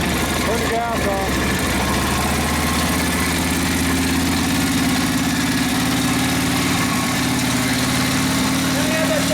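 A 1942 Harley-Davidson 45ci WLA flathead sidevalve engine running after rebuild and tune-up, a loud steady idle with low rumbling pulses that carries on without a break while someone talks over it.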